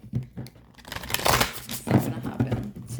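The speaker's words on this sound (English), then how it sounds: "I may need to cut this deck because it's kind of new and it's not shuffling the way that I like." A brand-new tarot deck is shuffled by hand, giving a few bursts of papery riffling and crackling cards over about three seconds, with a voice faintly present alongside.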